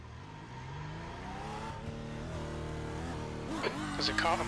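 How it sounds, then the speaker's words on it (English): GT3 race cars in a racing sim at Laguna Seca near the pit exit: a steady engine drone building as cars approach and pass, with a voice talking over it. "There's a car approaching."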